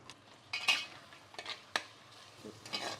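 Onions frying in oil while being stirred in a pan for a green onion curry, with intermittent scraping clinks of a utensil against the pan over a soft background sizzle.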